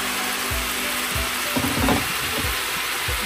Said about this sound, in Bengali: এটাকে একটু নাড়াচাড়া করে ভালো করে ভেজে নেব